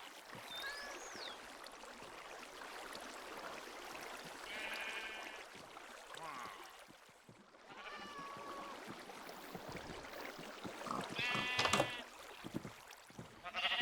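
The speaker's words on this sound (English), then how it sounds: "Nope, those are sheep." Repeated sheep bleats in a video game, several distinct calls spaced across a quiet background of flowing water and faint ambience.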